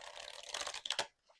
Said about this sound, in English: that's a nice shuffle. Very nice shuffle.